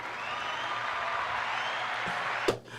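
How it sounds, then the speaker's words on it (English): A single sharp hand clap rings out near the end, brief and close, standing over a steady broadband hiss with faint room noise around it. "You get a hand clap for that."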